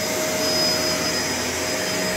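A Shark LA702 Lift-Away vacuum cleaner runs steadily and loudly at close range, a continuous whine with a constant hiss and no pauses or voices.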